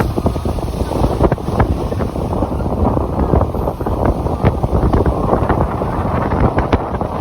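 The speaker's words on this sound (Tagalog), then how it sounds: "Mamaya pakinggan nyo rin yung hangin dito." Strong wind buffets the microphone at a seaside tourist spot in La Union, a steady loud roar with gusty low rumble throughout and no talking.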